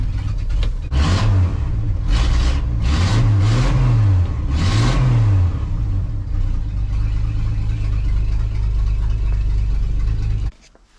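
A 1979 Ford F-150 Ranger with a 4-speed manual and four-wheel drive cranks, catches and settles into a steady, loud engine run, with a few rising revs early on before it cuts off near the end.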